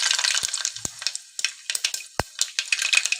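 Mustard seeds sizzle and pop in hot oil for a tempering, a steady frying hiss broken by sharp crackling pops scattered irregularly, close and fairly loud with no talking.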